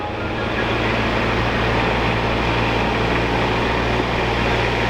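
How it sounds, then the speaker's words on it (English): A train rumbles past near old mill ruins in downtown Minneapolis, a loud constant roar with a low steady hum and no pauses. "here comes a train"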